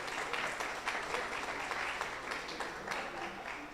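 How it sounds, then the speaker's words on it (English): Staff at a hospital meeting applaud a team with a moderate, fairly quiet round of hand clapping that continues steadily, heard from within a room and without any voices. "I think your team deserves a hand clap for that."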